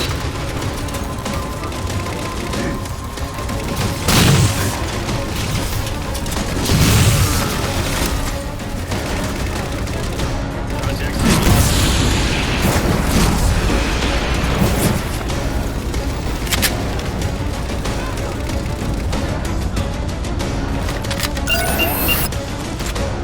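Railgun fire and combat in Halo 4, with loud booming discharges and explosive blasts recurring every few seconds over a dense, noisy battlefield din of mechanical and gunfire sounds.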